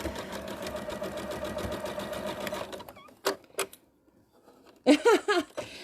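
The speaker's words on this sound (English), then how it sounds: "we're sewing this side now" Domestic sewing machine stitching fabric triangles: a steady rapid whirring run for about three seconds, then stops, followed by short clicks and bursts of someone talking.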